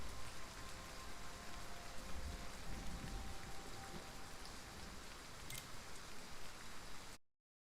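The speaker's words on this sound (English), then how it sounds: "We're gonna reset the fact that the rain is just constantly going." Rain in the survival game The Front falls as a constant, even hiss of drops on surfaces, steady and moderately quiet before cutting off abruptly near the end.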